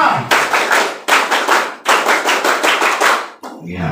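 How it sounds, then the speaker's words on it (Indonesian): Schoolchildren perform the scout rhythmic clap, tepuk pramuka, in unison: loud, tight bursts of patterned clapping in several phrases, each ending abruptly, with a brief voice at the close. "2 kali tepuk pramuka"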